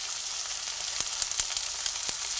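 Tomatoes, four green chillies and turmeric powder fry in a pan for a ridge gourd malaikari, giving a steady close hiss with a few faint taps of stirring, no talking.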